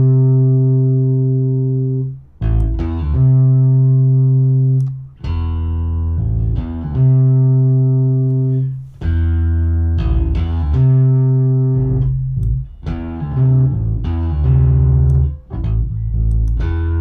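A stereo bass guitar jam is pushed into heavy overload and saturation distortion. Loud, thick sustained notes are picked out in phrases with brief gaps, and no one speaks.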